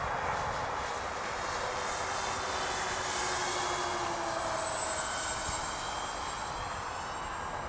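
Twin engines of a radio-controlled B-25 model airplane drone steadily in flight, a continuous loud whine with a slowly shifting pitch and no pauses.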